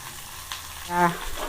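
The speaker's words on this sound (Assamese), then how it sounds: "এয়া মই পিঁয়াজ দি দিলোঁ। পিঁয়াজখিনি ৰঙচুৱা হোৱালৈ মই ভাজি ল'ম।" Onions hit hot oil in an iron wok and give a soft, low sizzle, with a brief scraping squeal of stirring near the middle.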